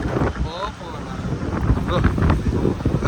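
Gusty wind buffets the microphone with a low, rumbling roar that rises and falls throughout, with voices faintly underneath, outdoors at a wedding dandiya night.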